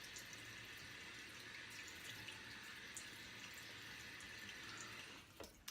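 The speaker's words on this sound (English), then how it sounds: "Get some more water on my face." Water from a running tap splashed onto a face between shaving passes, a steady close rush of flowing, splashing water that breaks off near the end, with no talking.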